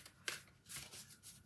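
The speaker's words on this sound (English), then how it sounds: "We will shuffle cards and see what I'm being drawn to for you for this month." Tarot cards being shuffled by hand in a quiet room, a soft papery riffle with several brief bursts of flicking and sliding, close and fairly faint, with no talking.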